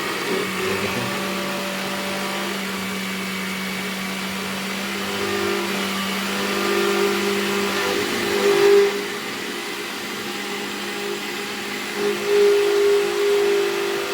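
An electric grinder blends mint chutney with a steady, loud motor whine and churning hum that holds for the whole stretch, rising slightly in spots.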